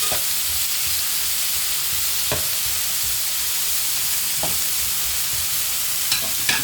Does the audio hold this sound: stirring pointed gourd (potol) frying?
yes